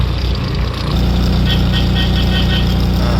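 A vehicle's engine idles at a toll booth in Maharashtra, with a steady low rumble that lasts throughout and a brief rise in level near the start.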